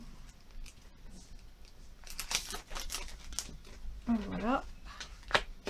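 Paper crinkles and rustles as a large envelope of craft cutting dies is handled and opened, with scattered crisp tearing and sliding sounds and someone speaking briefly close by.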